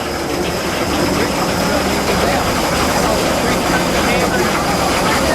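A Frick sawmill running at a large gas and steam show in Maryland gives off a continuous heavy mechanical drone, loud and unbroken, with faint voices in the background.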